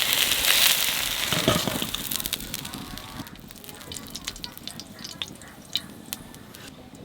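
Eggplant frying in a pan for a Bengali fish curry, with a dense, steady sizzle and crackle that is loudest at the start and settles into scattered spits and pops, without any talk.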